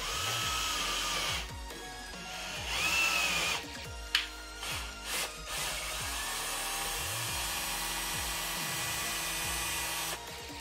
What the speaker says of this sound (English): Easiest way to use a tap. Put it on the drill.